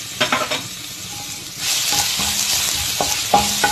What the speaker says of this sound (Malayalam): ഇതൊന്ന് നന്നായി വഴറ്റിയിട്ട് ഇതിൻ്റെ അകത്തേക്ക് ഇഞ്ചി, വെളുത്തുള്ളി, പച്ചമുളക് നമ്മൾ ചതച്ചെടുത്തത് നമുക്ക് ഇതിൻ്റെ അകത്തേക്ക് ചേർത്ത് കൊടുക്കാം